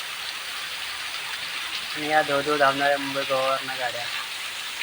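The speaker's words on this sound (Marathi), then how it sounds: "या पावसाच्या पावसाच्या वातावरणामध्ये मस्त आनंद घेतो आहे पावसाचा" Rain falls steadily near the Mumbai–Goa highway around Gandharpale village near Mahad, a continuous hiss that carries under someone speaking in the middle.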